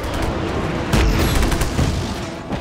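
Grenade blast in the open-world action game Just Cause 3, a broad low boom about a second in that rolls into continuous rumbling debris and gunfire-like crackle over steady game noise.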